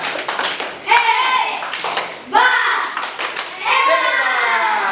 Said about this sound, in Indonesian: Berarti kasih tepuk hebat dong buat teman kita kelompok 3.